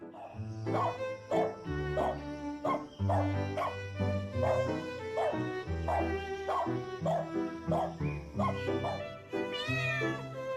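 A dog and a cat sound in turn against a busy, harmonic music-like bed, with repeated short barks or yips and meow-like cries at a fairly steady rhythm, close and loud throughout with no talking.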